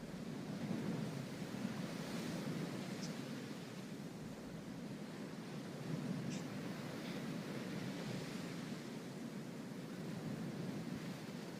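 Sea waves wash in a steady, soft roar with gentle swells, mixed with a little wind noise and a few faint bird chirps.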